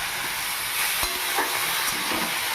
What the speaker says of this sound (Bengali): এবারে দিয়ে দেব কেটে রাখা আলু এবং বেগুন। একটু নেড়ে চেড়ে